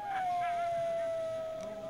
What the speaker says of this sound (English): An actual wolf in the wild.